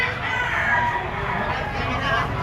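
A rooster crows loudly and close at a chicken auction market in Lipa, one drawn-out call over a dense background of other birds and crowd noise.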